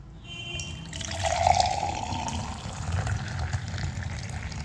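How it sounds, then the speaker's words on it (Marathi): Hot water pours into a glass for a drink, a close, continuous splashing fill that rises and holds steady for several seconds. "250 ml वरून गरम पाणी टाकायचे"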